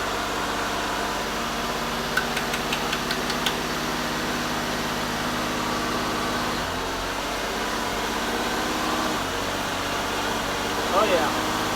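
A 1989 Buick Reatta engine idles with a steady close mechanical drone and hum that shifts slightly partway through, with a few faint clicks over it.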